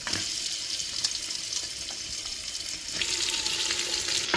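Mutton coated with turmeric and salt hitting hot oil in a pot for a village-style spicy mutton dish, giving a loud broad sizzle and hiss that holds steady and swells slightly as the meat settles, close up with no talk.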